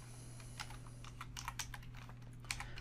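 Close, quiet keystrokes on a computer keyboard tap in an irregular quick run, typing a short word over a faint steady hum.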